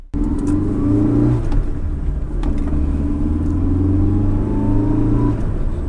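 A Fiat Uno CS with an alcohol-fuelled 1.3 engine revs steadily, its low rumble rising and falling in two long pulls, close and loud with no voices.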